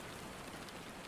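Endless heavy rain falling, a steady dense hiss of drops on surfaces with no pauses, filling the whole moment alone without any voices.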